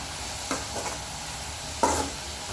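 Oil sizzles in a steady hiss while chicken dum biryani ingredients fry, with a couple of spoon scrapes and clinks from stirring cutting through the close, continuous frying.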